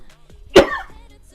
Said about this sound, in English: Hopefully I remember to edit my cough out when I do the edit on this.